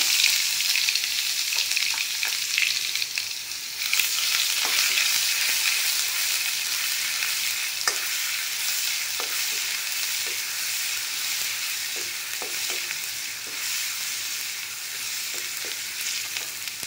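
Garlic paste frying in hot oil in a wok, a steady dense sizzle with crackling pops throughout, close and fairly loud, with occasional faint stirring clicks and no talk.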